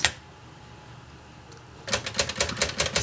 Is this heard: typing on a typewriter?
yes